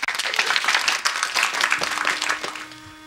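A comedy-show audience applauds a band before their song, a lively burst of clapping that thins toward the end as a faint sustained tone enters.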